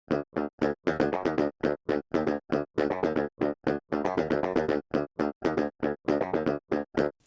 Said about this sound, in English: the raw DI sounds like this.